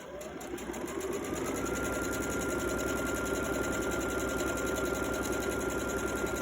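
Sewing machine stitching a quilt panel, running at a fast, steady whirring clatter that starts up and holds constant, close and alone with no voices.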